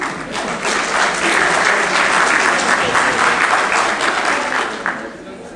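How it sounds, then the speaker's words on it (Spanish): Loud, sustained applause from an audience welcoming an engineer at an event on a national supplier registry, dense clapping throughout with a slight fade at the end. "un fuerte aplauso"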